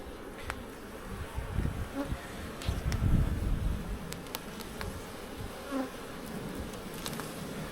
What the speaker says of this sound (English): that's why the bees are acting defensive